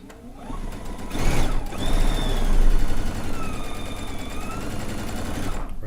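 Sewing machine stitching across fabric on a log cabin quilt block, heard as a close, rapid, steady mechanical chatter that runs almost the whole time.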